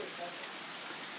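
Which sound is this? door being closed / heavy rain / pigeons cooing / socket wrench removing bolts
heavy rain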